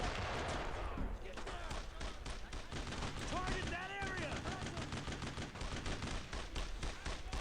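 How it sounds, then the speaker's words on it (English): Gunfire in the Brothers in Arms video game as a squad opens up on a mortar team: dense, continuous bursts of rifle and machine-gun shots, loud and close, with no break. "Begin firing on that mortar team."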